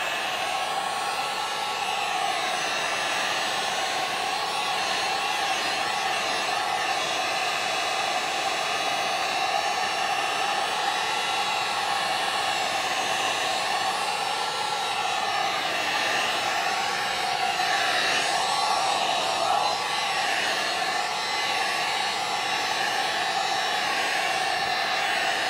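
Electric heat gun blowing steadily on a disc golf stencil for dyeing, a constant airy whoosh with an even motor hum that holds for the whole stretch without talk.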